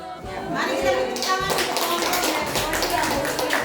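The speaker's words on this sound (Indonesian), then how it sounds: "Mari sekali lagi beri tepuk tangan." Applause from a group at an Indonesian school presentation session on positive culture, steady clapping sustained through the whole stretch with voices and chatter mixed in underneath.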